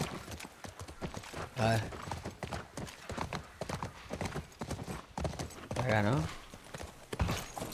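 Horse hooves clip-clop in The Last of Us, with a rhythmic run of hoof knocks and a couple of louder snorting or whinnying bursts, while someone speaks briefly over it.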